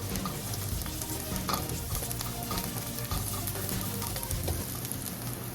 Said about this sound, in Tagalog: Pagkainit po ng mantika, ilagay na po natin ang ating luya. Sunod po natin yung ating bawang.